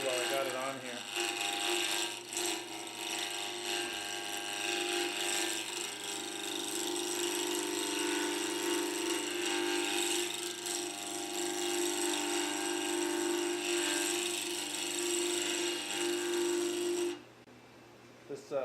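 Wood lathe spinning while a negative rake tool rounds the outside of a wooden ring blank, a steady whirring hum with continuous scraping and rasping that stops abruptly near the end, close and loud.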